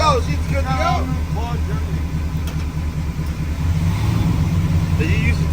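A 1972 Pontiac 400 V8 idles after a cold start with a steady, loping low rumble that holds throughout, while people talk over it nearby.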